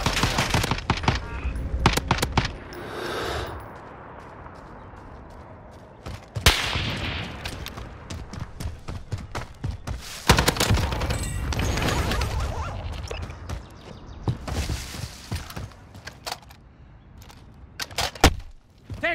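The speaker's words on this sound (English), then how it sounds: "Taking fire!" Rapid automatic gunfire and single shots in Call of Duty: Warzone, dense bursts repeating throughout amid in-game clatter and effects, loud and close.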